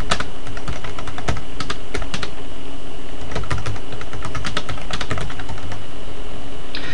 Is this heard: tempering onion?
no